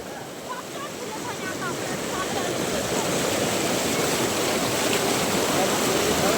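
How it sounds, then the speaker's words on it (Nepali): A big river crossed on a hike rushes past in a steady, loud broadband wash that grows slightly stronger, with faint chirps early on. "खोला छ हौ"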